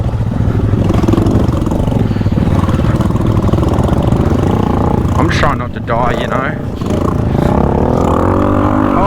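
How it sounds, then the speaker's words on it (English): A motorbike engine on a country road sounds harsh and terrible, its loud continuous droning rumble mixed with wind, briefly rising as it passes, while a person talks over it. "that is the worst sounding motorbike ever"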